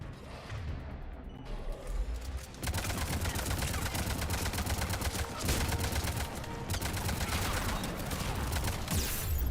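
Gunfire in the video game Mass Effect 3, with dense rapid bursts of automatic weapon fire and impacts crackling almost continuously, loud and close, with combat noise filling the gaps.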